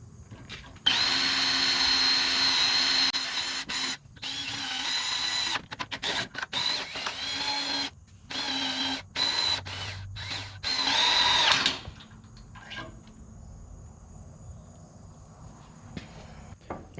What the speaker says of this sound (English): I realize that this is not proper procedure for drilling a hole